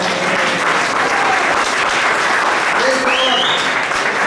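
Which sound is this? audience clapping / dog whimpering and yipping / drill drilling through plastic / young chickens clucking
audience clapping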